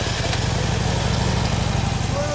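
A 2011 Harley-Davidson Dyna Low Rider FXDL engine idles close by with a steady, low, even throb.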